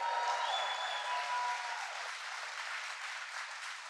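Sustained audience applause at a presidential jobs event in Poughkeepsie, New York: a dense, steady wash of many hands clapping that holds strong throughout and eases off only slightly toward the end, with no voices over it.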